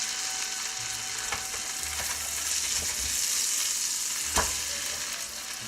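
Italian breaded burgers frying in a pan, a steady close crackling sizzle that runs throughout with a few faint clicks and one brief knock, moderately loud and free of speech.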